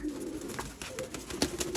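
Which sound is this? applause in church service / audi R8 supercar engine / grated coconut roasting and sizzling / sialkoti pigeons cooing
sialkoti pigeons cooing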